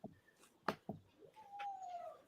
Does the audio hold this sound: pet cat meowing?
yes